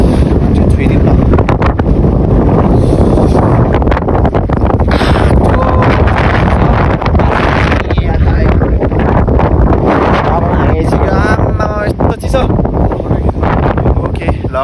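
Strong, cold wind buffets the microphone continuously on a Mustang trip, a loud, roaring rush that stays close throughout while voices talk faintly beneath it.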